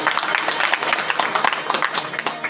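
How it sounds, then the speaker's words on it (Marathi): Audience at a kirtan claps for a young child singer, a lively burst of dense, close hand claps running steadily for a couple of seconds with voices mixed underneath. "एकदा टाळ्या होत्या त्या बाळासाठी."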